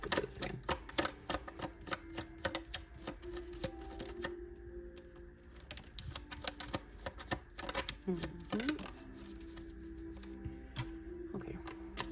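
A deck of oracle cards is shuffled at length, with rapid papery riffling and clicking in irregular bursts, close to the microphone, while a voice talks intermittently over it.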